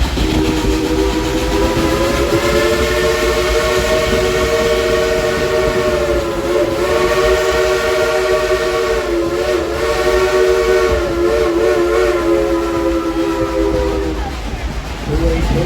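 A narrow gauge Mikado-style 2-8-2 steam locomotive, number 192 and weighing about 211,000 pounds, on the Dollywood Express line. It gives a loud, sustained whistle-like tone over a steady rumble, continuous and close for about fourteen seconds before easing off.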